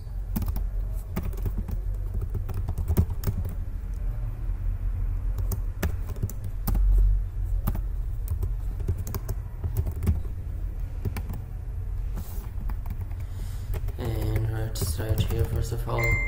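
Steady clicking keystrokes on a computer keyboard while code for a PHP form is typed, close and continuous with a faint background hum and brief voice at the end.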